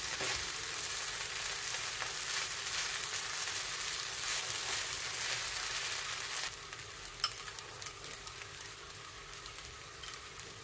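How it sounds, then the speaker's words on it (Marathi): Sabudana khichdi with crushed peanuts is stirred in a hot pan, giving a steady close sizzle with scraping stir strokes that ease off somewhat near the end; no talking. "तोही छान मिक्स करून घ्यायचा।"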